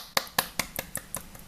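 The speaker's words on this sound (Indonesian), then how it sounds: "Tepuk tangan dulu." A small group claps briefly during an online math lesson, seven sharp, evenly spaced claps at moderate volume with no talk over them.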